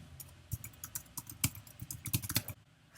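Someone types on a computer keyboard to enter an observation in a form, with a quick, uneven run of clicky keystrokes and a few heavier taps, close and clear with no talking.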